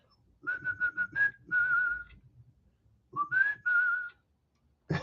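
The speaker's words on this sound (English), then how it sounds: "What am I whistling right now?" A man whistles a short tune up close, two clear melodic phrases of quick repeated notes and held pitches separated by a pause, with no talking over it.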